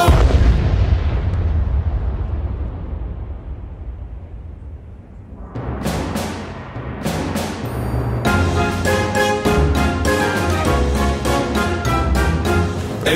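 A deep booming blast rumbles and fades, then sharp repeated bangs and crashes burst out loudly in quick succession with musical tones.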